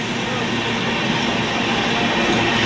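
A crowded Kolkata Express train at Varanasi station rolls with a steady, loud rumble and broadband rattling of wagons, continuous and close, with faint crowd noise mixed in.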